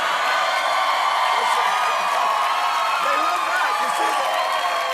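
A studio audience at a late-night talk show applauds and cheers, a dense, steady wash of clapping and whoops throughout with a voice talking over it.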